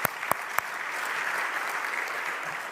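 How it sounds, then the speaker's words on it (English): An audience applauds at a governors' association event, steady sustained clapping with a few sharp claps at the start, moderately distant and filling the whole stretch. "give him a round of applause"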